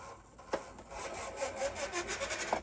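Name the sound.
rough-running Fury Tech brushless system on SCX24 RC crawler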